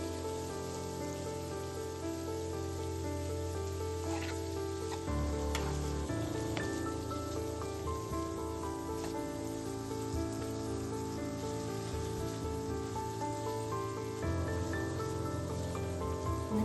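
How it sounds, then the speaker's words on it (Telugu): Paneer pieces seasoned with turmeric, chilli and salt fry lightly in a little oil in a pan, giving a steady, close crackling sizzle that runs throughout with no talking. "ఇప్పుడు ఇంకొక ప్యాన్లో కొద్దిగా ఆయిల్ వేసి పన్నీర్ పీసెస్ వేసుకుందాం. వీటి మీద కొద్దిగా పసుపు, కారం, ఉప్పు వేసి లైట్గా ఫ్రై చేసుకోవాలి."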